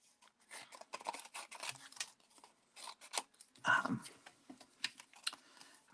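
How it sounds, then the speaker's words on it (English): Scissors fussy-cut printed paper images for Valentine easel cards, a quick series of close, crisp snips and paper rustles in irregular bursts, quiet overall and without speech. "I'm going to go ahead and cut these out."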